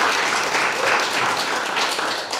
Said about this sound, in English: let's just give another round of applause for that beautiful, beautiful performance